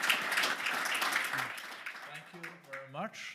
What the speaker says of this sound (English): I think the panel deserves a big applause.